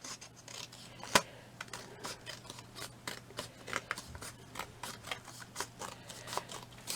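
Scissors snip through paper close up in a quiet room, a rapid run of short crisp cuts with small rustles between them while a paper fan is trimmed.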